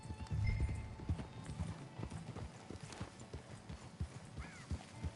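Horse hooves clip-clopping at a walk in Red Dead Redemption 2 near a deserted camp, a steady close rhythmic beat with a faint whinny, no talk over it.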